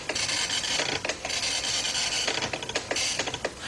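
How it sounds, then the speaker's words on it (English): A Commodore 64 printer prints a program listing, giving a continuous rasping, buzzing mechanical chatter with short bursts and brief pauses, heard up close with no talk. "instead of listing to the screen, the computer will list to the printer"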